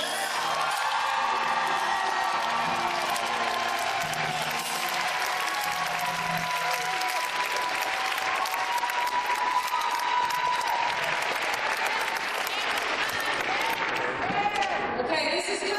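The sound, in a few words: crowd applauding and cheering at a rally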